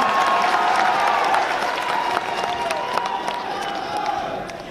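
A large crowd applauds loudly and continuously, with some cheering mixed in, gradually tapering slightly toward the end.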